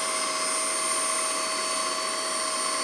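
APOSEN 18Kpa handheld cordless vacuum cleaner running steadily, a close, moderately loud whirring whine with a constant high motor tone and no talk.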